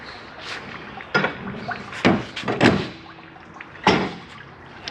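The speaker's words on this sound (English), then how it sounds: "entry door will swing around here." A travel trailer's entry door on a 2022 XLR Boost 32RZR14 toy hauler swings around, giving several sharp knocks and clunks of metal hardware with quieter rattles between, close by, with no talking.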